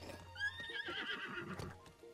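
A horse gives a long wavering whinny in Zelda: Breath of the Wild, with hoof clip-clops and game sounds underneath, fairly close and clear.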